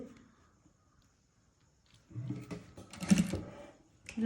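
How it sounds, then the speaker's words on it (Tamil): Sewing machine backstitching a belt onto an A-line frock: after a quiet pause, a short burst of rapid mechanical stitching chatter starts up, close and moderately loud, then stops and briefly restarts. "தையல் கட்டு போடுறேன்"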